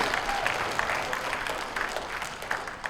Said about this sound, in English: Big round of applause for this one.